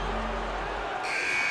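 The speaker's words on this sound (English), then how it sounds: "And that's the final buzzer." The final buzzer sounds in the NBA 2K21 basketball video game, a sustained electronic tone that starts partway through over steady arena crowd noise.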